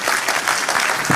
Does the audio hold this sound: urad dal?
no